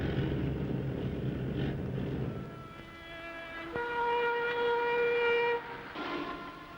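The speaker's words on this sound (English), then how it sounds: "Coupled to the end of an ordinary freight train, the flasks were shipped back to Montreal." Ordinary freight train hauling nuclear fuel flasks in sub-zero weather, heard as a steady rumbling roll that gives way to sustained tonal whistle or horn notes in the second half, fairly loud and close, with no voices.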